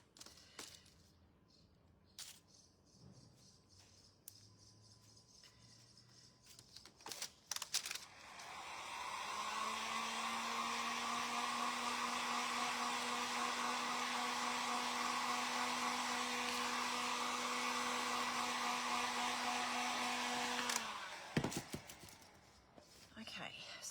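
A hair dryer blows steadily for about twelve seconds, drying ink on stamped book-page pumpkins, after some light tapping and handling of the paper and before everything goes quiet again. The dryer hum is loud and close.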